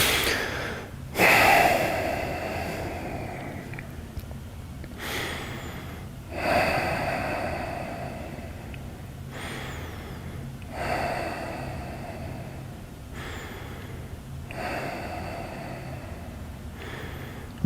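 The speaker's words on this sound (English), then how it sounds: "Take a few breaths here" Slow, deep breaths during a quad stretch, with about four long airy exhales repeating every few seconds over a quiet room tone.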